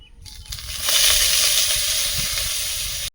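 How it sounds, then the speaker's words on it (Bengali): Dried fish hits hot oil in a wok with a rising sizzle that swells into a steady, loud hiss and holds until a sudden stop. "মাছটা ভেজে নেব"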